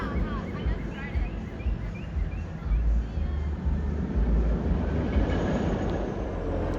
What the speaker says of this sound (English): Okay, that's like the fifth or the sixth empty train